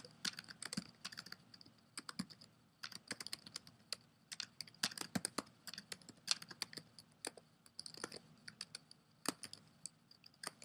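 Rapid typing on a computer keyboard, irregular bursts of clicking keystrokes with brief pauses, close and clear, no voices.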